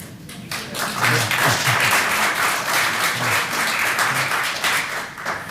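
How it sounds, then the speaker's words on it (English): Applause fills a city council work session in Clearwater, a steady, moderately loud patter of many hands clapping together that swells after a quiet opening and continues without talk. "I appreciate the applause"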